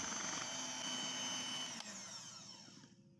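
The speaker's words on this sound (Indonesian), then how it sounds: "Kita mixer dengan kecepatan paling rendah." An electric mixer runs at its lowest speed mixing cake batter with flour, a steady close whine and whir that starts to wind down toward the end.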